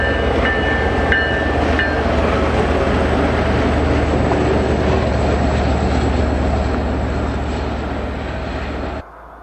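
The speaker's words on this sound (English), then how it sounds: "Jordan spreaders, similar to snow dozers, do require a locomotive to push them down the tracks." A locomotive pushes a Jordan spreader down railroad tracks, giving a steady loud rumbling drone with a brief high tone near the start, before it cuts off sharply at the end.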